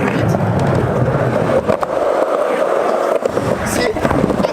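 A skateboard rolls steadily on its wheel bearings, a continuous close rolling rumble with a slight catch in the bearings, while a person talks over it.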